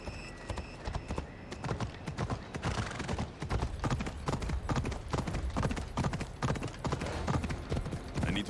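Horse hooves clip-clop steadily and close by in the video game Assassin's Creed Odyssey, a continuous rhythmic trot that carries on alone throughout.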